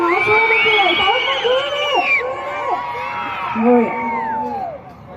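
A crowd at a night music program cheers, whoops and shouts loudly all the way through. Many voices overlap with excited yells and children's shouts close at hand.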